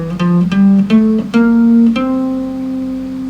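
Single guitar notes climbing a Mixolydian scale, a major scale with its seventh lowered, each pitch clearly picked and ringing into the next at a steady, unhurried pace, played alone and close.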